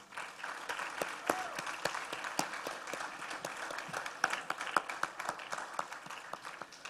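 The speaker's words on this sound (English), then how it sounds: "they deserve a round of applause" A room of people at a school's Grade 11 graduation ceremony applauding steadily, a dense patter of claps at moderate distance that continues without a break.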